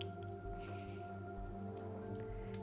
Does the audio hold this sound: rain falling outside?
yes